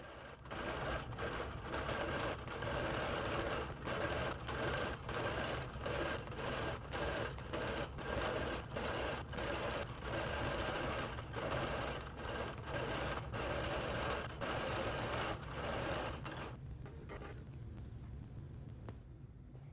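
A computerized longarm quilting machine stitches a quilt, its sew head making a loud, steady rapid mechanical chatter with regular rhythmic pulses, continuous for most of the stretch before easing off near the end.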